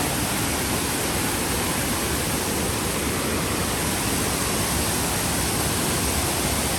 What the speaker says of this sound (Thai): ยังไม่ทันได้เดินได้สี่ก้าวก็ถึง น้ำตกสแลง